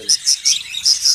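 Budgerigars in a breeding cage holding eggs give quick, bright chirps, five short repeated notes in an even rhythm, close and clear over a quiet background.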